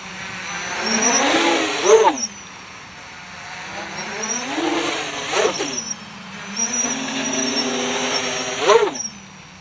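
Quadcopter motors spun by a Q-Brain ESC with 7-inch propellers rev repeatedly to full power and suffer desync, giving close, loud rising and falling whines in several bursts with stuttering peaks.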